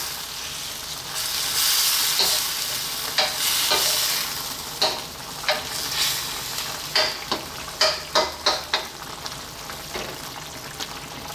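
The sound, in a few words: stirring spicy beef adobo in the pot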